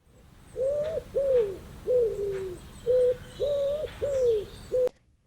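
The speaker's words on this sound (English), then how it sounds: "pigeon" Pigeon cooing, a series of seven soft, evenly spaced coos in a steady rhythm, close and clear over faint background.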